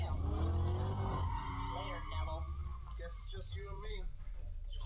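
A car skids with squealing tires and a droning, shifting engine in the racing game Need for Speed: Carbon on PS2, continuous and loud, with a voice talking over it.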